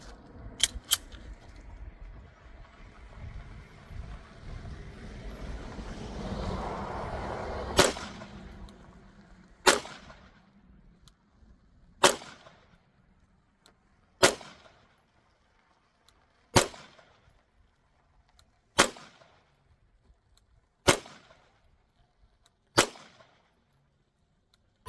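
A Canik pistol fires 115 grain reloads in a slow, steady string of about eight sharp shots, each a crisp crack with a brief decay, spaced roughly two seconds apart after some quieter handling noise.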